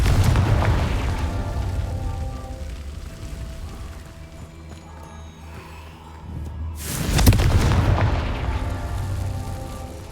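Deep booming blasts of the Confringo explosion spell in the video game Hogwarts Legacy, loud rumbling fire that fades to a lower roar before another heavy burst, with no talk over it.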